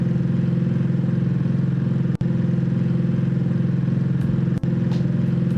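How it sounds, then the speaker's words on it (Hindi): A looping car engine sound effect plays in a phone-made game, a steady mid-pitched hum held at even loudness with two brief clicks where the loop restarts; no talking. "गाड़ी की आवाज़ आ रही है"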